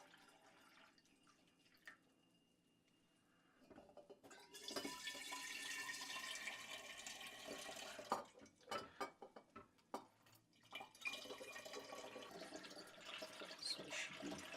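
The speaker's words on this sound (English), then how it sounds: "we're going to pour it off through our filtered funnel" Water kefir poured off through a filtered funnel, with close, irregular splashing and dripping of liquid that builds after a few quiet seconds and continues in uneven bursts.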